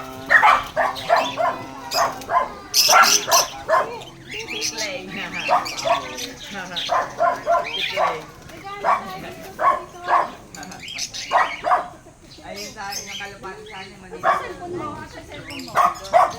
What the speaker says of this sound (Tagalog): Mga aso. Maraming kalat na aso.